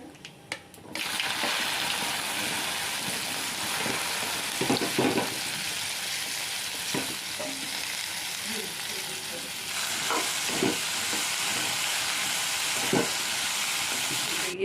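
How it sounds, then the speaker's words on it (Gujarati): Sliced okra sizzles steadily as it is tempered and fried in a pan, a loud continuous hiss broken by occasional clinks and scrapes of stirring. "ભીંડા સુધારી ગયા અને હવે વઘારી લઈએ શાક"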